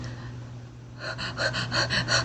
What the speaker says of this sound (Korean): 이렇게 숨을 헐떡이잖아요.